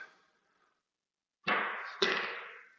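A pool cue strikes the ball on a jacked-up shot, a sharp crack followed by a second knock about half a second later, both close and loud after near silence.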